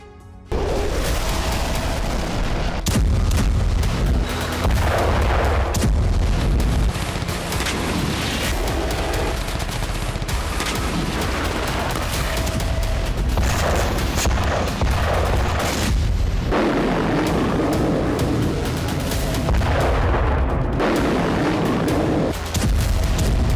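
Booms and explosive blasts from a missile attack on an Israeli base, loud and continuous with dense rumbling bursts and crackling throughout, no voices.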